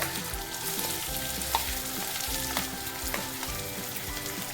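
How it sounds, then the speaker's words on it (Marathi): Onion frying in hot oil for a Konkani-style wet cashew curry, a continuous sizzle with repeated stirring scrapes and clinks of a utensil against the pan, close and fairly loud. "पहिला पण तेल टाकून घ्यायचं आहे त्याच्यानंतर कांदा"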